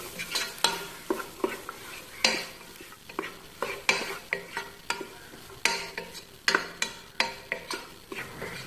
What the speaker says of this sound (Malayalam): നല്ലോണം മിക്സ് ചെയ്ത് കൊടുക്കുക.